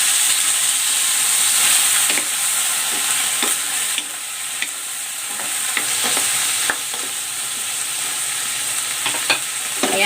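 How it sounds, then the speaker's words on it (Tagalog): Pork liver fries in hot cooking oil in a pan, with a loud continuous sizzle and hiss broken by scattered pops and crackles and occasional stirring scrapes. "Ipan-fry ko muna itong liver."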